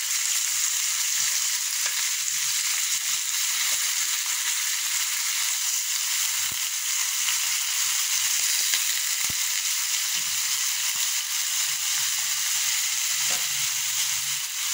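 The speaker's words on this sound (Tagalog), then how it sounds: "lagay natin panyero yung ating native chicken" Native chicken dropped into a hot pot for tamarind-soured sinampalukan soup sizzles and fries in a steady, loud, hissing crackle that runs unbroken, with occasional small pops and no talking.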